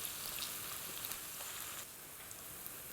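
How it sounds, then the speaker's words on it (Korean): Crab stick and tuna cake batter fries in hot oil with a faint, steady crackling sizzle and no voices. "그러면 이제 기름이 지글지글 끓면서 아래 단면이 익어가는 게 보이죠"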